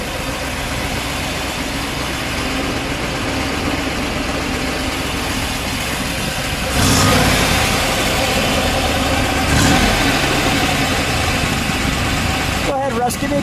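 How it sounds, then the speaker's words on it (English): A 1963 Chevrolet Corvette Stingray split-window with a 340 HP engine idles with a loud, steady rumble, then revs up sharply twice, each burst swelling briefly above the idle before settling back. "Go ahead, Russ, give me a good rev."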